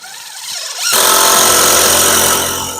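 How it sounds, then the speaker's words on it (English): A cordless power drill drives a screw to tack a window clip during a custom house window installation; a faint whir gives way to a loud, sustained high-pitched motor whine up close. "I start by tacking them with one screw each."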